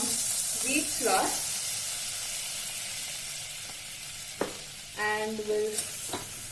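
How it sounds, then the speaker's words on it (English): Wheat flour roasts in melted butter with a soft, steady sizzle, while a spoon stirs and scrapes at intervals and brief voiced sounds pass in the background. "we'll cook the wheat flour in butter for around a minute"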